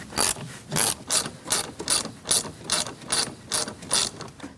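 A hand ratchet fitted with a 10mm socket loosens the positive battery terminal on a Toyota Corolla, giving about a dozen even, crisp clicking strokes up close.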